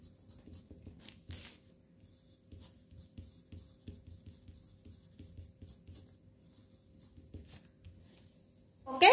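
Quiet scratching of handwriting on paper continues steadily, faint and close, with a brief louder rustle near the end.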